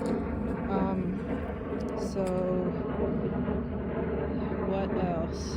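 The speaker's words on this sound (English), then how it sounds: "Sorry about the plane." A single airplane passing overhead above a garden, a steady low broadband rumble underneath, with a person talking nearby the whole time.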